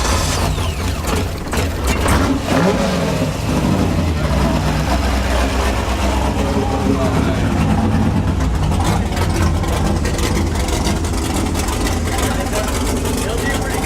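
A warmed-up car engine rumbles at a rough idle with some revving, loud and close, while people talk over it.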